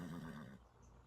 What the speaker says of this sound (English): Neigh, neigh, neigh, says the horse.